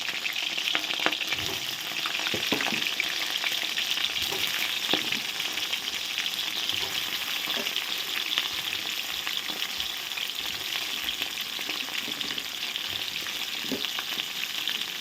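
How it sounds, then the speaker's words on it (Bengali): Cauliflower florets and potato pieces fry in hot oil with a continuous, busy sizzle throughout, broken by occasional clicks and scrapes of stirring. "এখানে তেল গরম হয়ে গেছে এখানে ফুলকপি আর আলু জল থেকে উঠিয়ে নিয়েছি এখন আলু ফুলকপি দিয়ে দেব ভালো করে ভেজে নেব"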